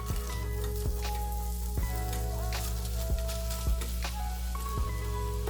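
Oats stirred into browning butter with cinnamon and nutmeg for homemade granola: a steady close sizzle and crackle runs throughout, with periodic scraping stir strokes about once a second.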